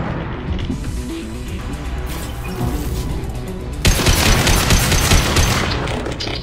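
Mass Effect combat gunfire, dense rapid shots crackling over a booming game backdrop, growing louder and heavier partway through.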